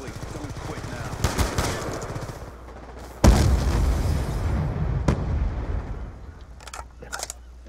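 Gunfire in the video game Black Ops 2, loud bursts of rapid automatic fire and booming blasts, one sharp heavy hit standing out midway, with voices faintly under the shooting.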